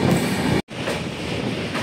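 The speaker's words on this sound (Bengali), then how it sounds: "ট্রেন এখন দয়াং রিভার ব্রিজ ক্রস করছে" A train rolling over the 713-metre Doyang river bridge on the Lumding–Badarpur line in Assam, a steady loud rumble of wheels broken by one abrupt silent gap before the rolling resumes.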